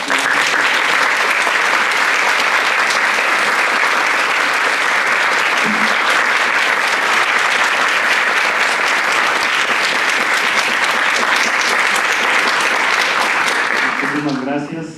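Audience applause at the closing of a school program on artificial intelligence, a long, loud and steady wall of clapping from a sizable crowd sustained for about fifteen seconds before tapering off.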